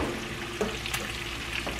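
Italian sausage fries in a skillet with a steady close hiss and crackle, plus a couple of faint utensil touches, brief and without speech.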